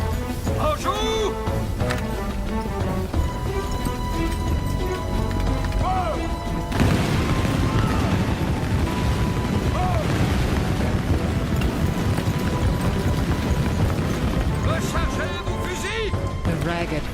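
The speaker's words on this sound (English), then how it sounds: "The ragged volley is pointless." French soldiers fire a ragged musket volley at British lines at the Battle of the Plains of Abraham, a scattered crackle of shots and heavy booms under dramatic music and a narrating voice.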